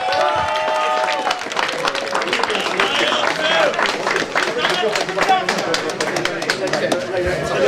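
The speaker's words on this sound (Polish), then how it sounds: "Wielkie brawa!" Applause and cheering from a crowd at an old-boys football tournament in Lubawka greet a second-place award, with clapping rising and continuing amid chatter and an announcer's voice.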